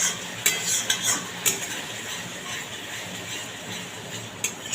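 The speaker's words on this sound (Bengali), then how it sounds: "যতক্ষণ না তেল বেরোচ্ছে মশলা থেকে ততক্ষণ আমি কষে নেব" Masala spice paste stir-fried in a pan for a vegetarian fennel and pointed gourd dish, with a utensil scraping and clinking against the metal pan in repeated strokes over a faint steady sizzle.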